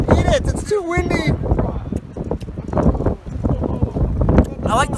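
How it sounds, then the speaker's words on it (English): Strong gusts of wind buffet the microphone outdoors during a meal, in loud, uneven rumbling bursts while people talk over them. "It's too windy."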